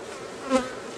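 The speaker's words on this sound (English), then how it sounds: "Oh, getting stung by a bee." Honey bees around an open beehive during hive splitting drone in a loud, steady buzz close by, with one bee swelling briefly nearer, no talking.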